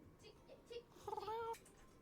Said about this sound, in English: I haven't seen an owl cat in a very long time.